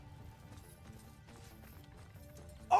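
Horses gallop in a Mount & Blade II: Bannerlord battle, a steady run of clip-clop hoofbeats at moderate level with a brief louder burst right at the end.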